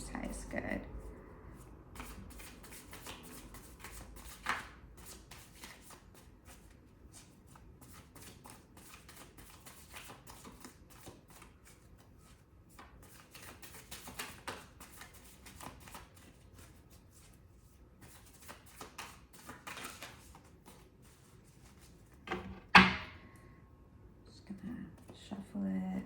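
Soft riffling and shuffling of tarot cards, repeated in short bursts, with a few sharper snaps and taps near the end; quiet and close.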